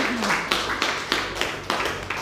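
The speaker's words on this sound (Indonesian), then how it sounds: "Ya, tepuk tangan." A few people clap hands together in a slow, even rhythm after fresh avocado juice is made. About five sharp, close claps are spaced roughly half a second apart.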